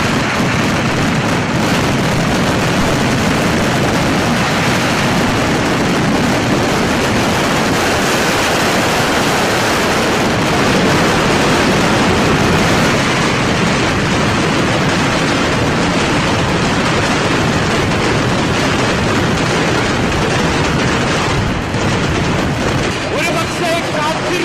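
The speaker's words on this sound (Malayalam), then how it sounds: "പൊട്ടേണ്ട വെടിക്കെട്ട് പൊട്ടിയത് 10 മണിക്കാണെങ്കിൽ കാത്തിരിപ്പിന് ഒരു നഷ്ടവുമില്ല" Fireworks display bursting at a night temple festival in a field, heard as a continuous, loud wash of booming explosions and crackle that persists with little pause.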